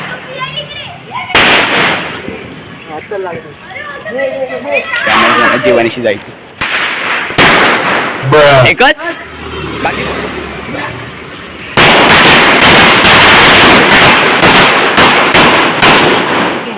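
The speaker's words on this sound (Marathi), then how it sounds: "आता आम्ही सुरू करू मोठे मोठे फटाके फोडा." Large Diwali firecrackers go off in a string of sharp, loud bangs and crackling bursts, some followed by sustained crackle, while people talk and shout between and over the explosions.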